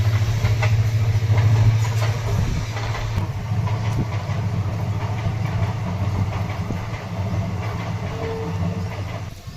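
A train rumbles past close by, a heavy low drone with faint rhythmic clatter, steady and loud for the whole stretch.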